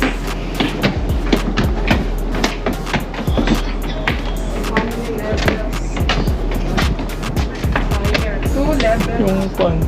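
A train passes with a loud, continuous rumble and a dense run of clattering, rhythmic clicks throughout, while people talk nearby under the noise.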